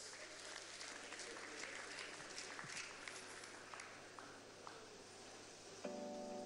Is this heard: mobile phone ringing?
no